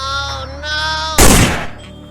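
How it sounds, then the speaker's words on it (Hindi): A cartoon gunshot from an animated comedy episode about monsters at a fair: one sudden loud blast cuts in after tonal music and trails off quickly. "बॉब ने तो रॉड को गोली मार दिया"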